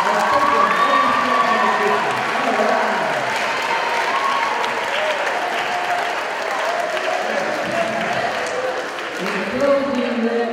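An audience at an event at Robert Fulton school applauds and cheers in a steady, dense wash of clapping for about ten seconds, with scattered shouts and voices mixed in.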